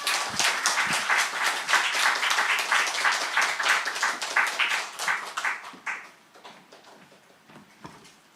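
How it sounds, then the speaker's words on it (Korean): A church congregation at a Sunday worship service claps in warm, dense applause that thins out after about six seconds into a few scattered, individual claps. "큰 박수로 격려해 주시기 바랍니다"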